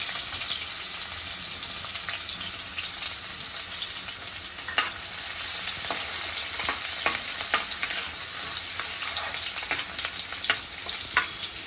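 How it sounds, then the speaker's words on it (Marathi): Garlic tempering sizzles in hot oil, a continuous close crackle with scattered sharp pops and light stirring scrapes throughout. "लसूणची फोडणी देणार आहोत फक्त लसूणच आहे आलं नाही याच्यात"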